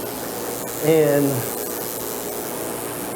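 Powder coating spray gun hissing steadily as it coats a heated mini bike frame in purple powder. The continuous airy spray runs throughout, with someone speaking briefly over it.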